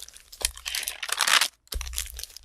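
Paper from a journal or planner crinkles and rustles close by in steady crisp bursts, with one brief pause before the handling resumes.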